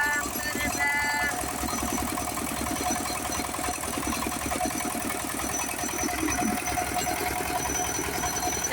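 A rice threshing machine runs with a steady, loud mechanical drone and a rapid, rhythmic churning pulse that keeps on without a break, heard up close.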